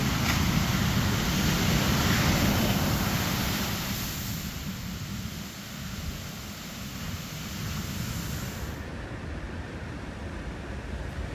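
Steady roar of sea waves washing in, loud at first and easing slightly, with no voices.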